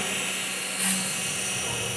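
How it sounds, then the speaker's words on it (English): A ShopSabre CNC machine spot drilling mounting holes, giving a continuous high-pitched spindle whine with a brief louder swell partway through and steady machine hum underneath. "You'll notice that we are doing the spot drill process, so we're just putting the initial little holes in"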